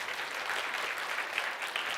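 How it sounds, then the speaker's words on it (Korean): A church congregation at a Sunday morning service claps in a steady, even wash of applause that carries on throughout, moderately loud with no voices standing out. "우리 어린 친구가 나오기 때문에 큰 박수가 필요합니다."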